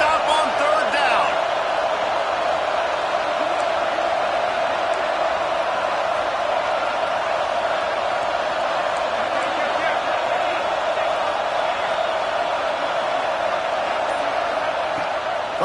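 Stadium crowd at a college football game roars steadily through the whole stretch, a broad continuous wall of cheering and noise with a commentator talking over it.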